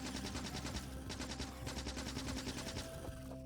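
Sustained machine gun fire in Factorio as the player mows down attacking bugs, a steady rapid rattle of shots running throughout under a droning game soundtrack, no talking.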